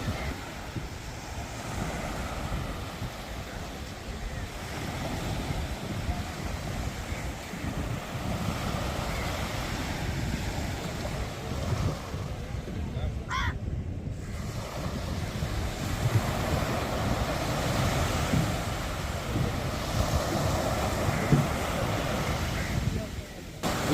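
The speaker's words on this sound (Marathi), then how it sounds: "नॅचरल साऊंड्स तुम्ही ऐकू शकाल समुद्राच्या लाटांचा" Sea waves wash continuously onto Dandi beach at Malvan in Konkan, a steady rushing roar mixed with wind buffeting the microphone.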